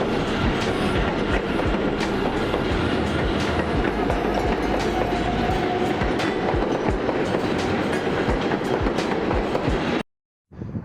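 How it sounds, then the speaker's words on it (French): A New York subway train rumbles across the Manhattan Bridge with steady, loud clattering wheels and rail noise that carries on for about ten seconds before cutting off abruptly. "Je vais essayer de vous filmer le métro."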